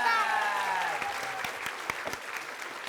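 Studio audience applause for all the contestants at a comedy show, a loud continuous wash of clapping that carries steadily through, with a few sharper individual claps standing out and a brief tonal sweep at the start.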